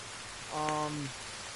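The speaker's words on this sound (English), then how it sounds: "Sorry for the rainstorm, it's just now about to hit." Steady rainfall in a video game forest map, an even broadband hiss running throughout, with a brief tonal voice-like sound rising briefly in the middle.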